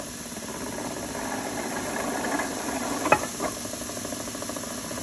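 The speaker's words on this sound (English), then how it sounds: "you can hear how the motor wants to run at a much, much higher RPM than this" An AtmoMotor Corona motor drives a drill under load, giving a steady mid-level mechanical hum with a sharp click or rattle about two thirds of the way through.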